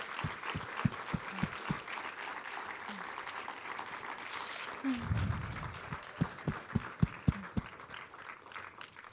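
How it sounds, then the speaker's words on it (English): An audience at a cast and crew Q&A claps for veterans, the sharp individual claps sparse and scattered rather than a dense roar, with a brief voice and some low rustling partway through. "please join me in giving them a round of applause"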